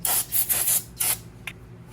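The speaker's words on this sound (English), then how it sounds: "one more wipe, because we just literally got dust all over the rotor" Brake cleaner sprayed onto the brake rotor of a VW Jetta MK6 during a brake replacement: four quick hissing spray bursts in a row, then one more after a pause, followed by a brief rub of a wipe.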